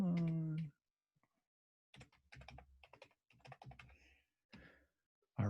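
Keys clatter on a computer keyboard in short bursts of crisp clicks while someone fills in form fields in a word processor, with a voice briefly heard at the start and end.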